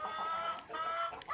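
Chickens cluck steadily throughout, several birds close by in a flock kept at home, the sound continuous and moderately loud with no talk.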